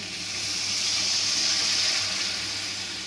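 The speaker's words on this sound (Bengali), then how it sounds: "এখন আমি দিয়ে দেব পরিমাণ মতো জল।" Water poured into a pan of spice-coated vegetables for a vegetarian paneer curry, a steady, fairly loud hissing gush that runs unbroken for a few seconds with no talk.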